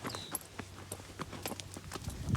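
A horse walks on gravel, its hooves crunching in a steady clip-clop rhythm close by and at moderate volume, with no talking.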